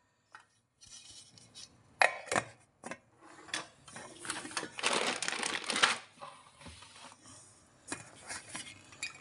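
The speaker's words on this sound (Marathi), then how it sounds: "चांगलं परतून घ्यायचं." A drumstick (moringa pod) curry being sautéed in a pan, heard as irregular scraping and stirring rasps with occasional sharp clinks, close and fairly faint.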